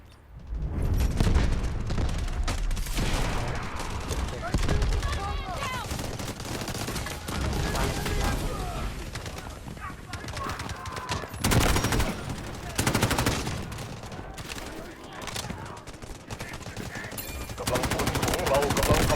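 A CI-19 rifle in Delta Force Mobile fires in loud, sustained automatic bursts with booming reports, running almost nonstop with only short pauses.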